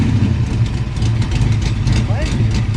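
A 1955 or 1961 Pontiac engine idles steadily with a possible leaking exhaust header gasket, giving a loud, continuous low rumble with a faint ticking texture and a brief voice near the end.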